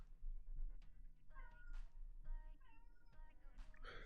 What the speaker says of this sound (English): Silas, meow.